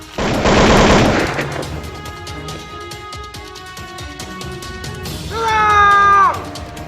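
Gunfire in a staged battle scene of the Puputan Margarana clash between Balinese and Dutch troops at Marga, Tabanan, Bali: a loud burst of rapid shots opens, followed by scattered clattering impacts, and a final loud crash near the end.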